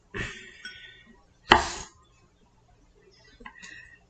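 Kitchen knife chopping garlic and onion on a cutting board: a few sharp, close knocks of the blade against the board, one louder strike in the middle, with ringing clinks and quiet gaps between.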